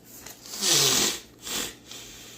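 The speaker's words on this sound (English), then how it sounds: "Fold up these corners here." Paper is folded into an origami cat box, with two close, soft crinkling rustles as the corners are creased, the first longer and louder than the second.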